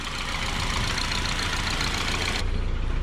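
A Honda JDM K24A engine idles steadily right after its first startup, a continuous low mechanical rumble with a broad hiss on top, close and constant throughout with no talking.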